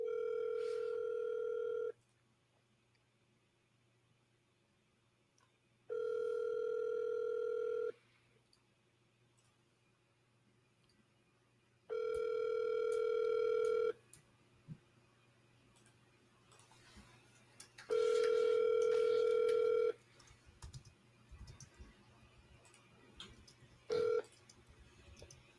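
Ringback tone on an outgoing phone call during a live business call: a steady purr in repeated two-second bursts with pauses between, four full rings and the start of a fifth, clean and fairly quiet with faint background hiss.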